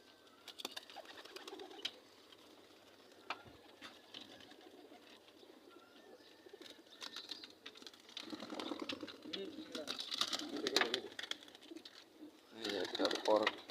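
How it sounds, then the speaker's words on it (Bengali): Several pigeons coo and rustle nearby in a steady low murmur, with someone talking intermittently and occasional flutters and clicks. "এই কবুতরগুলো সব"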